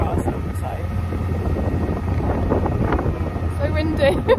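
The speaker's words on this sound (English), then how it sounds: "So windy." Strong wind buffets the microphone in a constant rumbling roar on a canal beside a narrowboat, with faint water and rigging sounds and a few brief voices.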